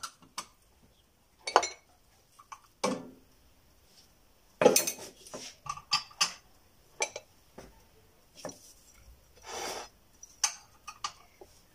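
A spoon stirs the remaining stuffing ingredients for a bogue fish filled with sardine balls in a bowl, giving sparse, irregular metallic clinks and scrapes against a quiet background.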